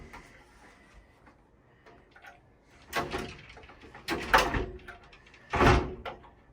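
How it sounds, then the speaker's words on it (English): Sliding doors inside a travel trailer are pushed shut one after another: quiet shuffling and rattling, then three loud rolling slides with thuds spread over several seconds. "we slide all the doors over"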